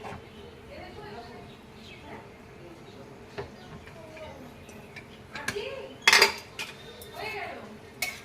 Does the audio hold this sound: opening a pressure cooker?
yes